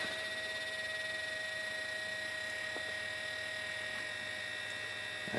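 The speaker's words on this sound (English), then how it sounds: "That noise is this fan back here on my backup printer" Steady whining hum of a small cooling fan on a backup 3D printer, constant and moderately quiet with tonal whine, running alone with no talk.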